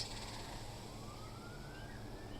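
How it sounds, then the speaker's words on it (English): Faint police sirens wail in the distance, the tone slowly rising over a steady background hum. "hear those sirens"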